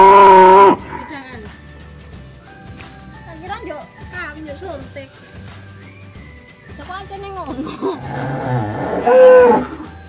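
Cattle low at a cattle shed: a loud moo opens, more lowing calls follow through the middle, and a strong moo near the end, mixed with people talking nearby.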